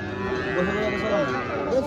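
Domestic cattle at a livestock market give a long, low moo that holds steady for nearly two seconds, close and clear against background murmur.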